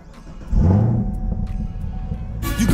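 A Chevrolet Camaro ZL1 with a 10-speed paddle-shift transmission cranks and fires up, its engine catching into a loud, steady idle rumble close by. It flares slightly near the end.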